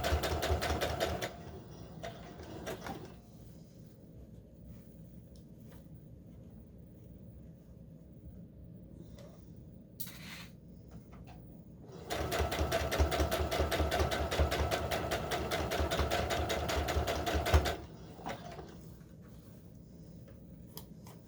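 A sewing machine stitches a 20 inch doll dress just below the original seam in two fast bursts of rapid needle chatter, with quieter handling and pauses in between.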